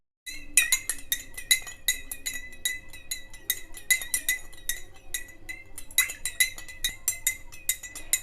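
A metal spoon stirs sugar into water in a glass, making rapid, close, bright clinks and taps against the glass in an irregular rhythm with no talking.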